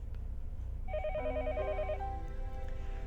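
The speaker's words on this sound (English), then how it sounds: "The phone rang noisily downstairs." A telephone rings with a bright, repeating electronic trill over a steady low background hum in the horror visual novel Higurashi When They Cry, set downstairs in a house; the rings are moderately loud and come in a short run, with no one talking.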